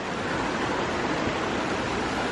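A river rushes steadily near a waterfall trail in the forest, a broad, even roar of flowing water filling the space with no voices.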